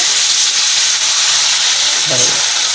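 Raw tomato masala paste fries in oil as a loud, continuous close hiss of sizzling with a brief low murmur near the end.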